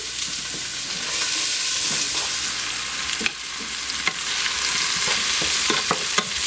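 Onions and celery fry in a pan for a venison stew, giving a continuous loud sizzle with intermittent clicks and stirring taps, close by and without talk.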